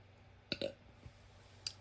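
A person gives a short, quiet burp, followed by a few faint clicks in an otherwise hushed room.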